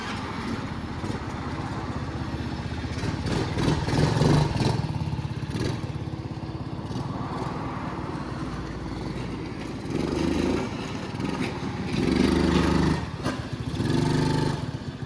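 A small two-stroke engine on a junkyard mini pocket rocket bike buzzes while being ridden, rising and falling as the throttle changes, moderately loud and steady over about fifteen seconds with no talk.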